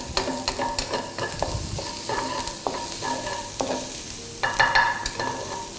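Garlic frying in a pan for a tuna white sauce: a steady close sizzle broken by repeated clinks and scrapes of a utensil stirring against the pan.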